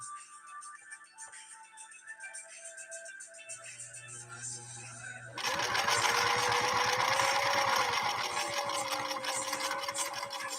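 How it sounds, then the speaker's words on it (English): A 1968 Singer Touch and Sew Model 626 sewing machine stitching leather starts up and runs in a steady, loud, rapid mechanical whir, preceded by quieter motor hum and clicks. "final sew off for Gloria's 1968 Touch and Sew"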